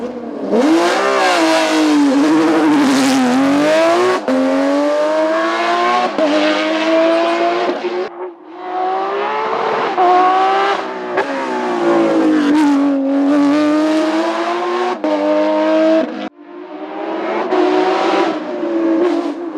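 A Porsche 997 GT3 R race car climbs the Col St-Pierre hill climb in France, its loud, close engine screaming through the gears with sharp rising revs and abrupt shift breaks, alone without talk.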